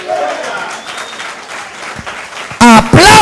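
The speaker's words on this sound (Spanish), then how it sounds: "Aplaude con todas tus fuerzas." Church congregation applauding under loud shouted preaching, a steady wash of clapping beneath the voice that is partly masked when the shouting peaks at the end.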